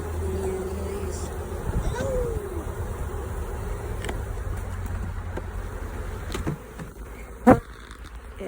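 Bees fly around an active beehive, their close, fluctuating buzzing drifting past, with a person's faint muffled movement and a sharp knock near the end.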